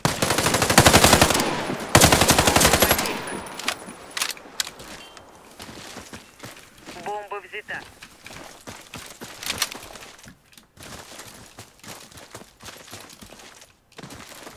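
Rapid automatic fire from a VHS-2 rifle in the online shooter Warface, loud and close in dense bursts at the start, then thinning into scattered shots and distant gunfire over the rest of the stretch.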